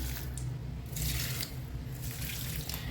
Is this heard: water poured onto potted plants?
yes